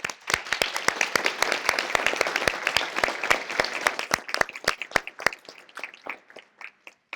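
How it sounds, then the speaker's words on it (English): An audience applauds teachers at a Teacher of the Year awards ceremony, sharp individual claps standing out over a dense crowd wash that gradually thins and trails off to a few scattered claps at the end. "So let's take a moment to applaud their achievements."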